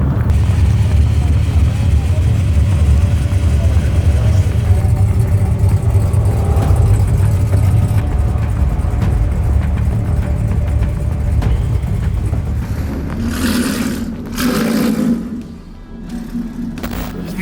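A truck engine running loud and close, a deep steady rumble that shifts in pitch, then swells briefly toward the end before dropping off.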